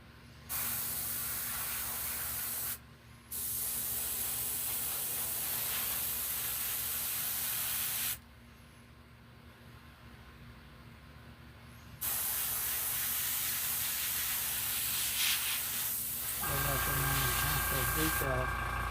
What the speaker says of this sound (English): a light spray of brown on them